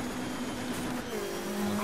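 A turbocharged Subaru rally car engine in the Dirt 3 racing game drones steadily on an asphalt stage, with a sustained engine tone shifting pitch partway through, alone without talk.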